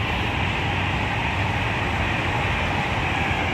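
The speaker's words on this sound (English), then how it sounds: "We've got Pendolino passing platform 6." A Class 390 Pendolino passes through a platform at Milton Keynes Central on the West Coast Main Line, giving a steady, loud rushing roar with a low rumble that holds through the whole clip.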